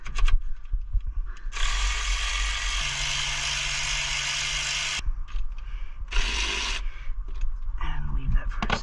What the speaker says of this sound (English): Now, with your 12mm, go ahead and remove the two lower bolts and the single upper bolt.